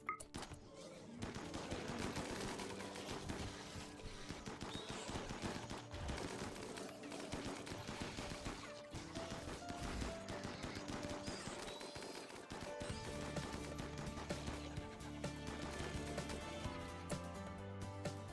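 Gunfire in the colony game RimWorld, rapid bursts of shots crackling and popping over a continuous musical soundtrack, repeated throughout at even loudness.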